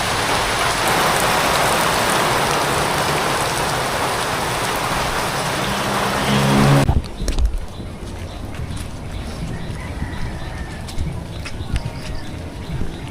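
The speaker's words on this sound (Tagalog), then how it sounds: "Wala na, di na makapasok sa Tintin. Bagyo na. Ulan na." Heavy rain during a storm pours down in a dense, loud roar for about seven seconds, then drops abruptly to lighter, closer patter and drips on surfaces for the rest.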